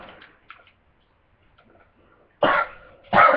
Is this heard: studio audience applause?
no